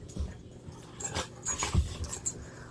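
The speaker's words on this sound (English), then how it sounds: "there will be sounds of puppies in the background" Puppies in the background giving soft panting, small whimpers and a few brief yips and snuffles, scattered irregularly at moderate distance with no talk over them.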